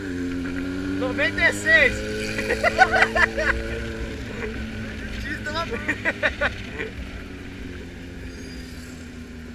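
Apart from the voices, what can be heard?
carbureted Honda Hornet motorcycle engine misfiring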